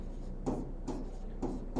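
Handwriting during a math lesson on percentages, likely chalk or marker on a board: four short scratchy strokes at a steady, unhurried pace, fairly close and moderately quiet, with no talk over them.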